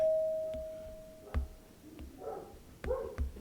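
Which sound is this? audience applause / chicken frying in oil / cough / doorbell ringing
doorbell ringing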